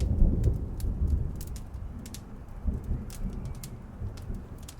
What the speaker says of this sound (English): We're gonna get a lot of rain.